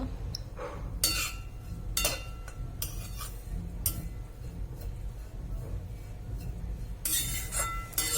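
Ingredients are dry-roasted in a metal kadhai while a spoon stirs them, making repeated scraping clinks and knocks at irregular intervals, close and fairly quiet, with a busier run of scrapes near the end.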